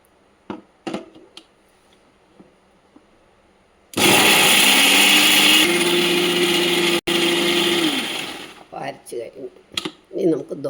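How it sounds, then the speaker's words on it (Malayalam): A kitchen blender grinds cooked, cooled watermelon into a paste, one loud continuous whir of about four seconds with a brief break, set between clicks and handling noises before and after. "ഇനി നമുക്കിത് അരച്ചുകൊണ്ട് വരാം"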